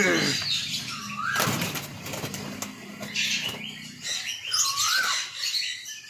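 Pigeons take flight at a pigeon loft, their wings beating in loud, close bursts of rapid flapping, with light chirps and fluttering between the bursts.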